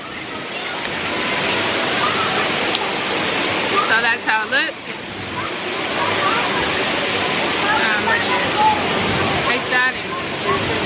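Water rushes steadily at a water park lazy river, a broad continuous wash like surf, with people talking nearby over it.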